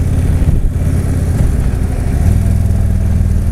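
A stock motorcycle with unmodified factory exhaust pipes idles with a steady, moderately loud low rumble, close by and continuous, with a slight swell in the engine note partway through and no talking.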